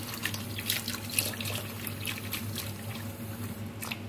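Water runs and trickles steadily from a kitchen tap into a sink while garlic leaves are rinsed and soaked, a close continuous splashing with a low hum underneath.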